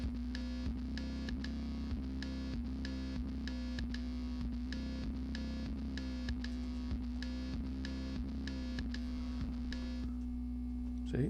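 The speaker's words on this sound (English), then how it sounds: "without that input you just have this oscillator" Behringer Neutron synthesizer oscillator sounding alone, a steady buzzy sustained tone with a strong low fundamental, pulsing in an even repeating rhythm with sharp regular accents throughout.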